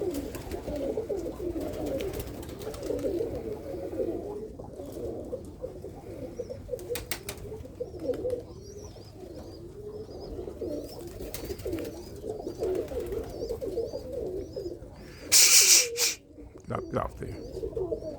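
Birmingham Roller pigeons coo in a low, continuous murmuring chorus, steady and close, with a brief burst of wing flapping near the end.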